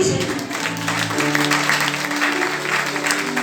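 A church congregation applauds for Jesus with loud, sustained clapping that carries on without a break, while voices and music sound underneath.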